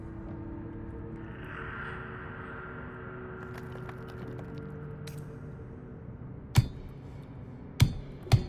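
Heavy metallic impacts strike a massive lock in Baldur's Gate 3, three sharp separate blows near the end over a steady low ambient hum.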